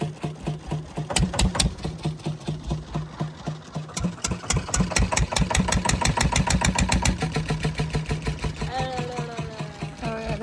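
A small motorboat engine runs steadily on a harbor ride near Vasai, its rapid rhythmic chugging loud and close throughout, with a person talking over it.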